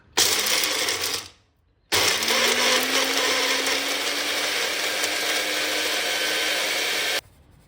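A kitchen mixer grinder blitzes peanuts and green chillies into a fine chutney powder, a loud, steady whirring grind with a brief pause around the second mark before the motor roars back and runs on evenly.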